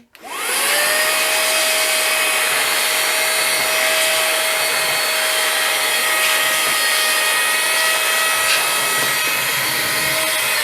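A cheap mini vacuum cleaner from China starts up and runs with a loud, steady high-pitched whir and airy hiss, its tone holding constant throughout with no voices.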